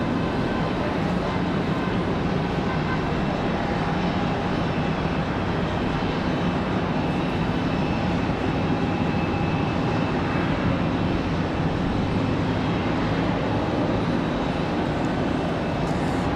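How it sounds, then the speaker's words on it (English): Aer Lingus airliner touching down at Raleigh-Durham International Airport, a steady, moderately loud engine roar and rushing rumble heard from a distance, with faint whining tones, no voices. "as we see Aer Lingus touching down"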